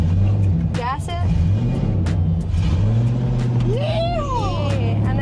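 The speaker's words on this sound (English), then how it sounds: "You go into the first, and then it works the same way. You just need to gas it." A manual stick-shift car pulling away in first gear, its engine a steady loud rumble that climbs as it's given gas, with people talking over it throughout.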